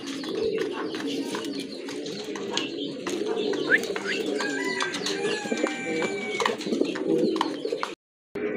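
A pair of fancy Pomeranian pouter pigeons at a pigeon sale, giving low soft cooing mixed with chirps from other birds nearby, under a busy background with someone talking.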